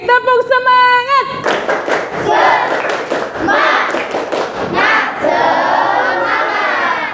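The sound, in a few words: group rhythmic clapping, tepuk semangat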